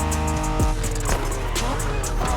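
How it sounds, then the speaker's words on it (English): Honda NSX engine in The Crew Motorfest, a harmonic drone that rises and falls through gear changes with a brief tire chirp, close and steady, with a voice faintly under it. "Are you familiar with the Honda you're driving?"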